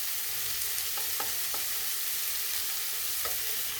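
Onions with chilli powder and salt sautéing in a pan, a steady broad hiss of frying with a few soft stirring taps, close and low in level.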